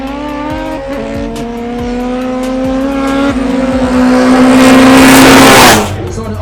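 A Honda Integra at a drag racing elimination event accelerates hard through its gears, the engine note climbing steadily louder with a rising rasp before cutting off, an announcer's voice running underneath.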